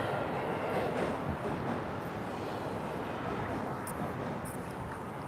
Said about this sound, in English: you guys can hear the sound of this T1 Bombardier beneath us